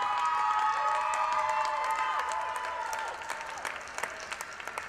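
Spectators at an O Cup race cheer and applaud as runners finish an elimination race, a steady crowd roar with whistles and shouts that tapers slightly toward the end.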